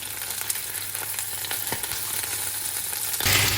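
Fish frying in a pan of hot oil gives a constant close crackling sizzle that swells slightly near the end, with no voices.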